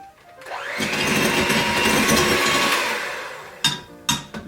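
An electric mixer whirs loudly and steadily as it blends vanilla into batter for gluten-free chocolate nut butter cookies, then cuts off and is followed by a few sharp clattering knocks.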